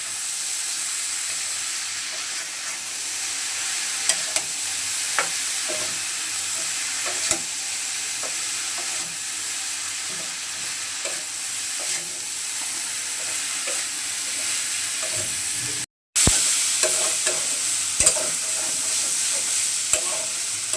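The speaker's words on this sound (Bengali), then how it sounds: "এখন সব কিছু ভালোভাবে একসাথে মিশিয়ে নেব" Dried fish with chilli powder and turmeric stirred in a hot frying pan, giving a steady sizzle with repeated spoon scrapes and clinks throughout and a brief gap near the end.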